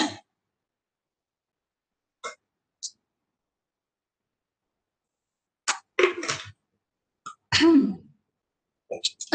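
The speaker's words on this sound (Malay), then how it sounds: "saya terbatuk pula." A person coughs and clears their throat in short, separate bursts between long silences, with a sharper cluster of coughs near the end in a quiet indoor setting.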